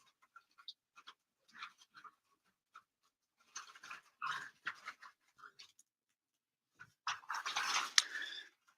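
Dogs pant in quick, breathy bursts close by, with scattered pauses and a louder stretch of heavy panting near the end, and no talk over it.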